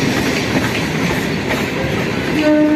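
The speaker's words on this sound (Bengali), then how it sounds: "আর একটা ট্রেন ঢুকে গেল ভাই, বজবজের ট্রেন" A Kolkata circular railway train rolls into a station with a steady rumble and rhythmic clatter of wheels on track, close and loud, with a faint horn-like tone near the end.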